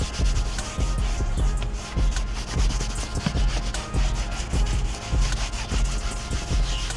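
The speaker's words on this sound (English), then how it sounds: "we're just gonna be agitating the surface, scrubbing out all that body oil" A brush scrubs a car's interior surface to lift body oil during mobile detailing, a brisk, rhythmic back-and-forth rubbing that repeats evenly and close up, with no talk.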